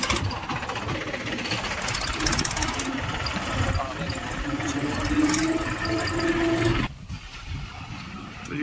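A tubewell pump engine runs on a farm, a steady, loud mechanical drone with a rough throb that holds without letup, while a voice talks over it and gusting wind blows outdoors.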